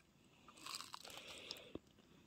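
Fried purple sweet potato bitten and chewed close to the microphone, giving quiet crisp crunches and a sharper snap near the end over a soft background.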